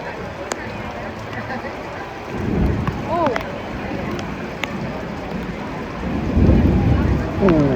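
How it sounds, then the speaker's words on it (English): Heavy rain pours during a violent thunderstorm at an Orlando waterpark, a steady hiss with deep thunder rumbles swelling twice, while people talk and call out nearby. "Rain's getting heavier."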